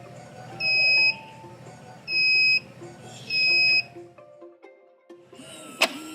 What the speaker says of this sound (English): At the end of the process, there will be a loud beep from the device.